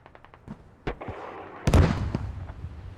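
Autocannon fire in a military combat video game, with a quick series of faint pops giving way to louder, sharper bursts and booming reports that echo through a noisy battlefield.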